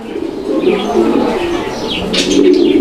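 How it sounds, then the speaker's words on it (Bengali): Grizzle pigeons at a pigeon market coo in low, steady, throaty murmurs close by, with faint chirps and wing rustles layered above the continuous cooing. "আমরা এই মুহূর্তে দেখতে পাচ্ছি এখানে একসঙ্গে চার পিস কবুতর রয়েছে"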